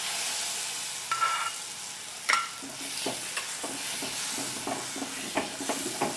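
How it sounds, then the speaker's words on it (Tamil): Gram flour batter is stirred into a sizzling gravy in a pan, giving a steady frying hiss with a loud clink near the start and repeated soft scraping strokes of the stirring spoon. "இப்போ இதை நல்லா கிண்டி விட்டுட்டு இப்போ நம்ம இந்த கரைச்சி வச்சுருக்கிற கடலை மாவை இதுக்குள்ளே சேர்த்துக்கலாம்"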